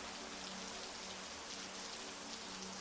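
Steady rain falls across a moonlit plain in an LSDJAM dream-exploration game, an even, continuous hiss of dense drops with a low background hum, unbroken and fairly soft throughout.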